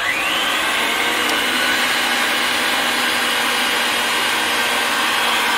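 A Ridgid 300 pipe threading machine cutting thread on pipe makes a loud, continuous motorized whine and grinding hum, close and unbroken for the whole stretch, with no voices.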